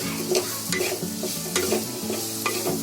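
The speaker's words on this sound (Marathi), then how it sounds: "थोडा मसाला फ्राय करून घ्यायचा," Ground masala paste with raw garlic being fried and stirred in a pan for an Alu vadi-style preparation, giving a steady close sizzle broken by repeated spoon scrapes and stirring clinks, with no talking.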